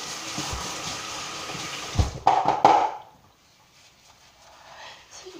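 Running water from a tap washing things off, a steady splashing flow for about two seconds that swells briefly into a louder gush before cutting off, leaving near silence with faint room noise.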